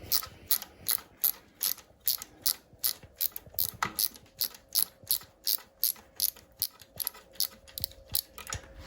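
A ratchet loosens the bolts on the EGR valve shield of a 2.7 diesel TD V6, a close, rapid train of evenly spaced clicking strokes repeating about twenty times without pause.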